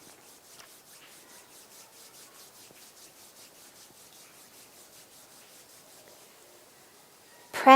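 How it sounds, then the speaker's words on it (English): Palms of the hands rubbing gently together at chest level during a guided meditation session, a soft, steady friction swish continuing quietly for several seconds before a brief louder sound at the very end. "bring the palms of your hands together at chest level and rub them gently together"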